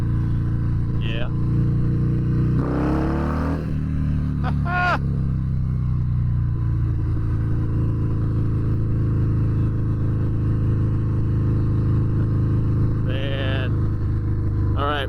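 A 2019 Harley-Davidson Fat Bob 114 Softail motorcycle engine holds a steady, close, loud rumble around 3,500 RPM, while someone talks over it at the start and end.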